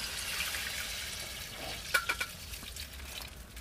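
Water is poured into a cooking pot of village-style chicken, giving a short splash and gurgle over a continuous hiss of simmering, with no talking.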